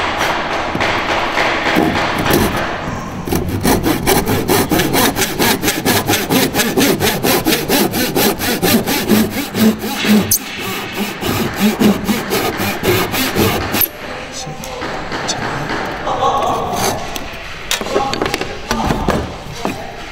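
A hand saw cuts the cheeks of a wooden tenon for a mortise and tenon joint, rasping in a fast, regular back-and-forth rhythm of loud, close strokes, with a brief pause midway before sawing resumes.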